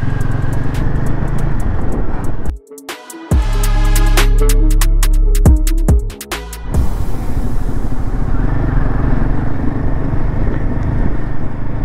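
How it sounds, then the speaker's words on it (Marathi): Motorbike engine running hot on a rough Ladakh mountain road, its cooling fan spinning at full speed. Loud, steady engine roar and whirring continue throughout with no talking, apart from a brief dip and a clattering middle stretch. "गाडीचा फॅन फुल फिरतोय, भुर्र, गाडी फुल गरम झाली, गरम इंजिन असं हिट मारताय ना."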